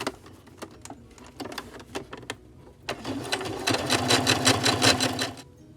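A sewing machine stitches the edge and shoulder seams of a shirt, first in short separate bursts of stitching, then in a longer, faster and louder continuous run before it stops. Nobody speaks.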